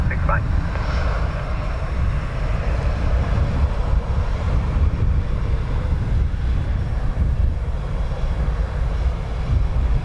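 An airliner takes off from runway 10 right at Dublin Airport, its engines a steady broadband roar that fills the whole stretch at a fairly close distance, with wind buffeting the microphone.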